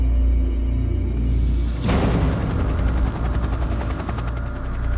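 A rescue helicopter flies over a steep canyon, its loud steady rotor and engine roar swelling with a whooshing pass partway through and then a rapid blade chop continuing close and alone.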